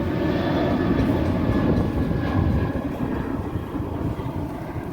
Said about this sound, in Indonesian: pesawat Garuda.